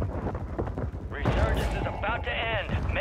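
Gunfire during a trios Resurgence match in a video game, with rapid bursts of shots and sharper reports rising over the game ambience, while players talk over the action.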